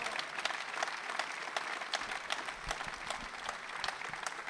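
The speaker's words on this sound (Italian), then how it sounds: "Penso che un applauso se lo meritano alla grande." An audience claps steadily throughout, a continuous crackle of many hands at moderate volume with a few sharper individual claps.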